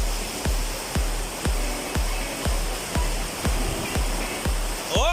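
Heavy rain pours in a steady, dense roar, with regular low pulsing thumps about twice a second underneath and no voices.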